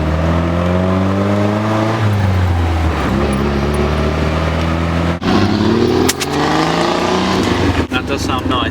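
A Triumph Spitfire 1500 engine revving hard through a tunnel, loud and close, its droning note climbing and dropping through gear changes with echoing reverberation; people talk over it.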